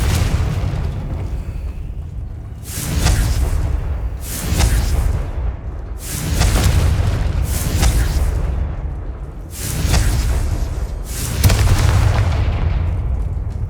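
Repeated Confringo fire-spell explosions from the Hogwarts Legacy video game, five or six loud booming bursts spaced a couple of seconds apart over a constant low rumbling background, with no talking.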